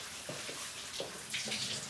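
Warm shower water runs and splashes for a bath, a soft, close spray with intermittent splattering bursts as the flow shifts, fairly quiet and without talk.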